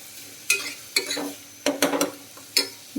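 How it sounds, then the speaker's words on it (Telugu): Onions fry in a pan for a cabbage and egg curry, with a quiet sizzle under about five sharp, close spatula scrapes and stirs arriving at uneven intervals. "ఇది బాగా ఫ్రై చేసుకోవాలి."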